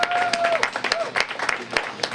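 Audience applause at a community arts festival event honoring student interviewees, a dense patter of claps with a few whoops and voices mixed in, moderately loud and steady for a couple of seconds.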